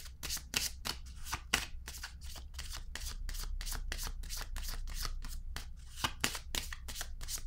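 Tarot cards are handled and laid down one after another in quick, crisp slaps and shuffling flicks, close up and brisk, with no one talking.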